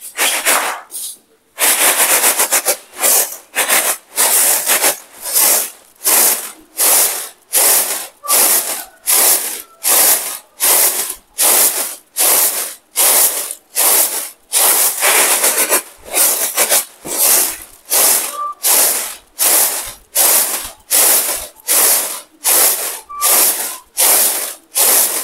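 Rice being winnowed in a woven tray to sift out stones, a steady series of rhythmic rasping swishes repeating about once a second, close and loud, with a brief pause near the start.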